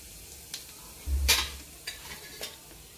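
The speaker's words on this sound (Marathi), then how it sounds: "आपलं तेल तापून झालं की आपण त्याच्यामध्ये 1 चमचा जिरं टाकायचं आहे" A spoonful of cumin seeds dropped into hot oil in a kadhai, a steady faint sizzle with a burst of louder crackling and a low thump partway through, plus a few light scrapes; no talking.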